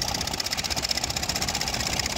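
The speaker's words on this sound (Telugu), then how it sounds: "5 స్పీడ్ మోటార్లు పెట్టుకొని నీళ్ళ మీద రయ్యమని ఉరుకులు పెడుతుర్రు" Motorboats of fishermen race across a village pond in Konaseema district, their engines droning with a steady, pulsing hum at moderate distance.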